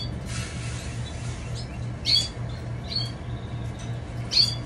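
Canaries in cages at night give a few short, high chirps and tweets, sparse and moderately near, over a steady low mechanical hum.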